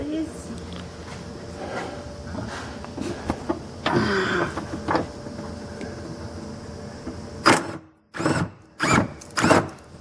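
A power tool runs in short bursts while removing bolts from a Jeep, several separate whirring pulses growing louder toward the end, with people talking nearby between the bursts.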